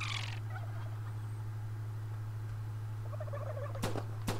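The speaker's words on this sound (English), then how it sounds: "Oh look, surprise, more turkeys." Turkeys gobble in short warbling bursts in the VR video game Herocade on PlayStation VR, over a steady electronic hum, joined by a couple of sharp clicks near the end.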